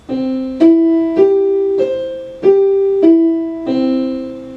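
Seven sustained instrument notes played one after another, each held and flowing into the next without gaps, at a steady moderate pace.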